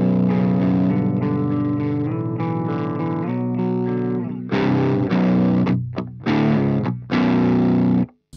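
Electric guitar through the clean channel of a Marshall Valvestate 8100 amp, playing loud ringing chords. The sustained chords give way to choppy, abruptly stopped stabs near the end, with no talking.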